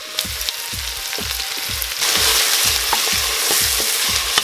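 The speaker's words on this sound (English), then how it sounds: "Take some oil, put in your pan, let it turn hot, and then add in your onions." Two large onions fry in hot oil in a pan. A steady loud sizzle is broken by regular scraping stirs about every half second, with no talking.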